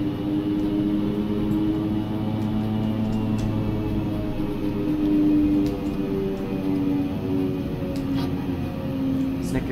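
An airplane in a flight simulator, taxiing onto a runway at St. Barts ahead of takeoff: a steady, close engine drone with a constant low hum and faint high hiss, unchanging throughout.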